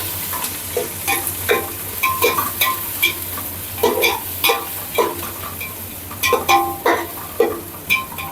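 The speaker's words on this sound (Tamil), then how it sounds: "வெங்காயம் நல்லா வதங்கட்டும்" Onions sautéing in oil with cinnamon, cloves and cardamom for biryani, a steady sizzle broken by repeated scraping stirs of a spoon against the pan, close and fairly loud, with no talking.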